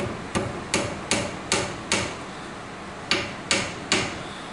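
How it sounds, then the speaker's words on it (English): Eight sharp hammer taps driving nails into wood ring out at a steady rhythm with a short pause midway, close and crisp. "Make sure your fingers are clear of the hammer, and then just give a little tap."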